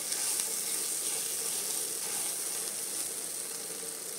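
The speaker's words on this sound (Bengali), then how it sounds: "মশলাটা একটু কষিয়ে নিব, দেন চিকেনগুলো দিয়ে দিব।" Masala spices cook in hot oil in a pan, a continuous, fairly loud hissing sizzle held close and even throughout, with no talking over it.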